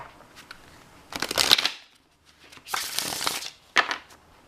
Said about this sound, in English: one more shuffle and we'll start pulling cards